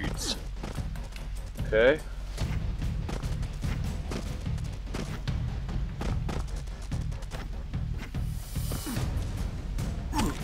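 Grenades and gunfire explode in a jungle video game as repeated thumping blasts and crackling bursts, with one louder bang near the start, while a player briefly speaks.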